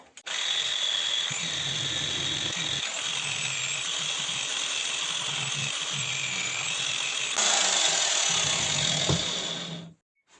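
A power tool spins a felt disc with polishing paste, a steady high whining drone with a rough grinding undertone that grows louder near the end before cutting off.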